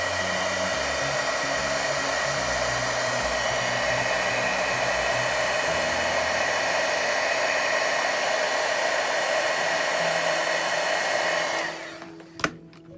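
A heat gun melting embossing powder on a card blows with a loud, steady whir for about eleven seconds, then switches off and winds down, followed by a sharp click.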